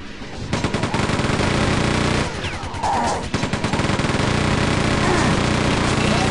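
Rapid automatic gunfire from the chaingun in the shooter game Quake 2, loud, dense rattling bursts nearly continuous with a brief lull midway before firing resumes.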